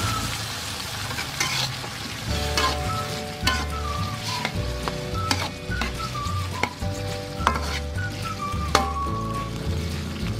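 Fern and petai stir-fried in a pan after a splash of water, with a steady loud sizzle and hiss, spatula scrapes and clacks on the pan, and music playing underneath.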